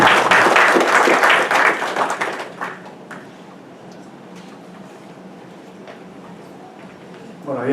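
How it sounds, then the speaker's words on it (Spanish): Applause from the audience at a Lima 2019 Pan American Games transport panel, loud and dense for about two and a half seconds, then thinning to faint scattered claps and room noise. "Un aplauso para todas las personas que a continuación"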